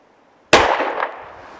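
A single sharp gunshot from an M&P 2.0 4-inch 10mm pistol at a shooting range, sudden and loud with a short echoing decay.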